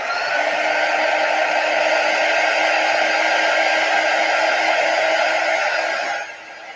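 A hair dryer blows steadily on fresh paint on an upcycled notebook, a loud, constant whirring hum with a faint tonal whine that runs for about six seconds before cutting off abruptly.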